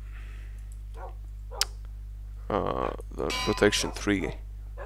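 Tamed dogs in Minecraft let out several short, sharp barks in a quick cluster near the end, over a low steady hum and faint background sounds.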